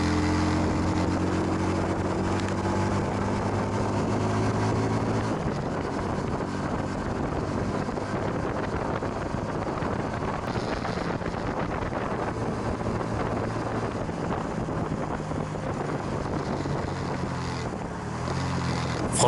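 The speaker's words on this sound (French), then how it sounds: "Vous voyez la souplesse du moteur, ça repart pas fort, mais ça repart même en 4ème ou en 5ème." A 125cc motorcycle engine pulls steadily while riding, a continuous drone mixed with strong wind rush that lasts the whole stretch, with no talking.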